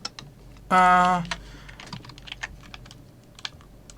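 Computer keyboard keys pressed during 3D animal-modeling work, including a Ctrl+J shortcut: scattered, light clicks heard close up, with a brief louder tonal burst early on and no talking.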